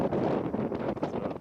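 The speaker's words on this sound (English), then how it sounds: "So, and it's windy." Strong wind on a day's trek in Nepal on the way toward Jomsom, buffeting the microphone in a loud continuous rumbling blast with gusty surges.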